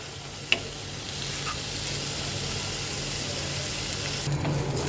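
Bottle gourd peel and seeds fry in a pan with a steady, close sizzle that holds for the whole stretch, marked by one sharp click near the start and no voices.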